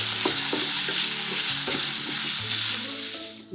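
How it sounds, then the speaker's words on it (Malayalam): Vegetables sautéing in a pan for vegetable biryani, with a loud, close, continuous sizzle and frying hiss broken by the scrape and clatter of stirring, with no talking. "ബാക്കിയുള്ള വെജിറ്റബിൾസും കൂടെ നമുക്ക് ചെറുതായിട്ടൊന്ന് വഴറ്റിയെടുക്കാം"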